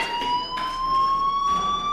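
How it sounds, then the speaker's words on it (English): A fire alarm rings steadily and loudly in the video game Life Is Strange, a continuous electronic tone with pulsing bursts of brighter noise on top, no voices over it. "do you hear that fire alarm?"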